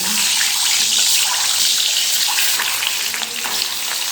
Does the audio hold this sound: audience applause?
no